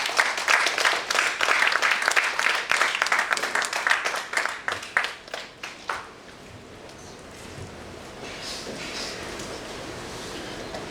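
Audience clapping at a one-day technology seminar as a speaker is honoured on stage, dense applause for about four seconds that thins into scattered claps and dies out by six seconds, leaving quiet room tone.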